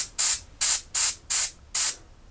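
Airbrush spraying paint onto a wargaming miniature in short bursts: five quick hissing puffs of air and paint, evenly spaced, close and crisp with near silence between.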